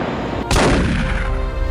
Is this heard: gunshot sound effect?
yes